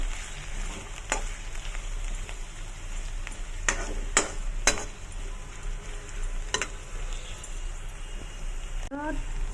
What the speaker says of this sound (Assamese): মই ইয়াতে পিঁয়াজখিনি ঢালি দিছোঁ। এইখিনি অকণমান বেছি নহয়, ফ্ৰাই কৰিম